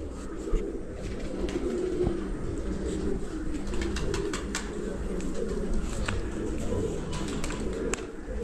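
Pigeons coo softly in repeated low calls over a steady background hum, with a few faint clicks and taps, at a pigeon loft during a racing tournament.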